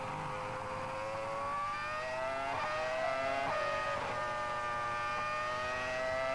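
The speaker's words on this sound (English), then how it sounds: "the revs were noticeably much higher on that Honda engine than the Ferrari engine following" Honda- and Ferrari-powered Formula 1 cars race at the 2004 Australian Grand Prix, their high-revving engines whining steadily with rising and falling pitch as they pass, heard at a distance under a constant roar.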